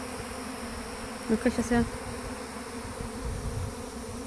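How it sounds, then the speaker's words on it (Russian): A swarm of honey bees fills the air around a garage with a steady, close, dense buzzing drone. A brief voice speaks over it partway through. "Они везде, эти пчелы, они в гараже, они везде."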